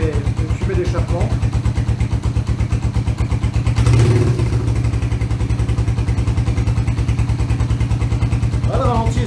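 Suzuki GN 125 scrambler motorcycle idling steadily with a rapid, even single-cylinder thump that holds throughout, a brief louder swell near the middle, and someone speaking over the engine.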